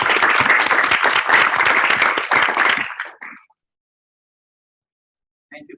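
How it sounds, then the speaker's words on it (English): Audience in a general assembly hall bursts into loud, dense applause that carries for about three seconds, then tapers off quickly into silence, with a faint brief sound near the end. "So please give him a round of applause."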